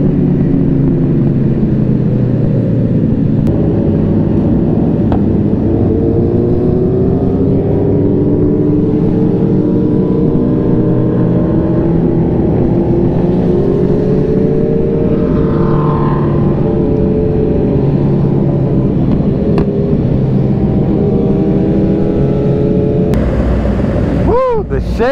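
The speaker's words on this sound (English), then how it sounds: "Bikes in front of me, there's a whole bunch of bikes like that behind me." A group of motorcycles rides together on a road ride-out, their engines droning steadily and loudly throughout with passing whooshes of wind, while a rider talks over the noise.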